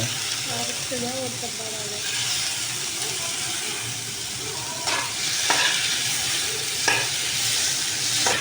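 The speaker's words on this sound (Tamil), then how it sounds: "நீங்கள் ஒரு தக்காளி கட் பண்ணதை எடுத்து போடணும் தக்காளி முடிஞ்ச அளவுக்கு இப்படி நசுக்கி போடுங்க" Tomato and onions fry and are pressed down in a pan, giving a steady broadband sizzle with scraping stirs and a few sharper clacks near the end, and a brief voice at the start.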